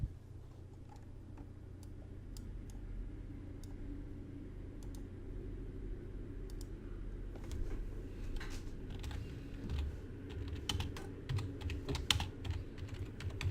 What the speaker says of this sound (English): Are you typing something, El Diablo? Yes